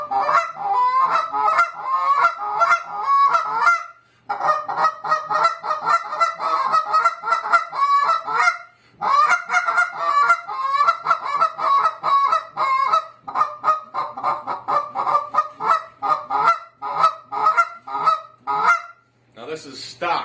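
A Big Kahuna goose call is blown on a low-end scale, giving loud, close, rapid honking clucks in long bursts broken by a few short pauses.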